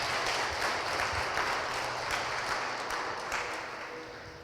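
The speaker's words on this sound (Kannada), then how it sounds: "ಒಂದುಗೂಡಿಸಿದ ದೇವರಿಗೆ ಒಂದು ಚಪ್ಪಾಳೆ ತಟ್ಟಿ ಸ್ತೋತ್ರ ಮಾಡೋಣ" A church congregation claps together during praise and worship, a dense fast patter of many hands that fades gradually toward the end.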